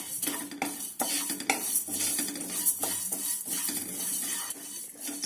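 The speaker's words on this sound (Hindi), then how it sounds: "एक पैन गरम करें और उसमें साबुत धनिया और सौंफ डालें और धीमी आंच पर 1 मिनट के लिए भूनें" Whole coriander and fennel seeds are dry roasted in a pan over low heat and rattle and scrape continuously as a spatula pushes them around. The sound is close and busy, with no talking.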